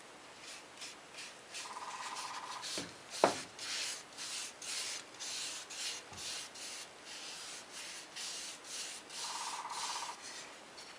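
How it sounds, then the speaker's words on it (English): Wood stain being wiped onto a wooden workpiece with a folded shop towel, soft repeated rubbing strokes close up with a steady rhythm, one sharp knock early on, no talk. "I folded up a shop towel and I'm simply wiping it on."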